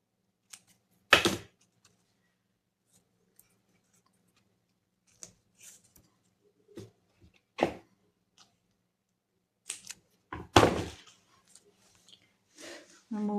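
Scissors trim the edges of book pages for a DIY sticker-storage project, giving a handful of sharp, irregularly spaced snips separated by quiet gaps.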